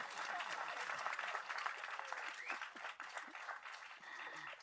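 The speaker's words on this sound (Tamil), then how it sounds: "இந்த படம் வெற்றி அடைய அனைவரும் கைத்தட்டல் கொடுங்க" An audience claps in sustained applause, a dense crackle of many hands that stays steady and fairly close for several seconds.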